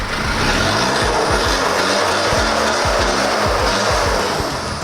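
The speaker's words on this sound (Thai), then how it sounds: "เดี๋ยวเราไปลองกันคันนี้ท่อดังแค่ไหน เบิ้ลลองเบิ้ลดู" An Isuzu D-Max SLX pickup revs hard through a loud aftermarket exhaust, close and continuous, with repeated blips and deep pulsing engine tones rising and falling over a constant roar.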